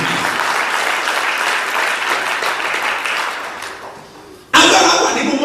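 A church congregation bursts into loud, dense applause near the end, following a stretch of a preacher's amplified voice; the clapping is close and sustained.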